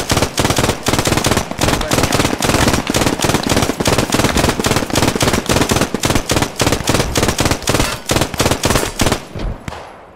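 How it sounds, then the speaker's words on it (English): An MG34 or MG42 machine gun fired from the hip in the Post Scriptum video game lets off a long, loud, close burst of rapid shots at a steady, fast rhythm that fades at the end. "hip-firing your MG34 or MG42 is absolutely the way to go in close-range combats"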